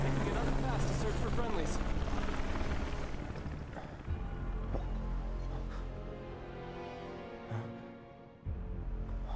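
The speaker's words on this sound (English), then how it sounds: "Oh, look, a helicopter." A helicopter in Final Fantasy VII Remake thrums with a steady low rotor rumble that fills the scene, fading slightly toward the end, with a person talking over it.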